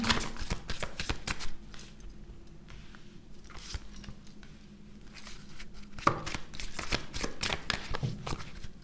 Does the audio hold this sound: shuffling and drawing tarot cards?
yes